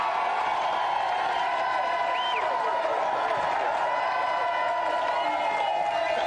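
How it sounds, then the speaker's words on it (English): A television game show studio audience at a Christmas celebrity special applauds and cheers continuously, a dense wash of clapping with occasional whoops filling the room at steady volume. "Give them a round of applause, Michael and Macaulay."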